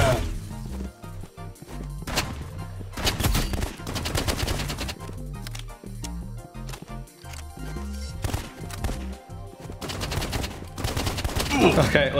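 Rapid pistol gunfire in the Roblox game Rivals cracks out in quick bursts and single shots across a busy stretch, with impacts, clatter and game sounds, fairly close and loud throughout.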